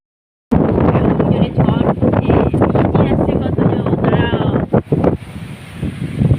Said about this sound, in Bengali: প্রচণ্ড জোর ঝড় উঠেছে